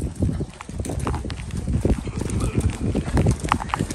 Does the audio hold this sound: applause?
no